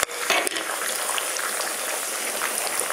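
Dense, crackling sizzle of food frying in hot oil, steady throughout with a few sharper pops near the start.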